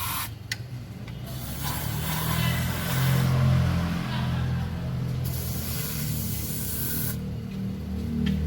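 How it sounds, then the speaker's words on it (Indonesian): Continuous spray hissing during a tune-up on a 2003 Toyota Kijang car, a steady aerosol stream held for several seconds with brief pauses, close and fairly loud over a low background hum. "Kita semprotin sampai habis."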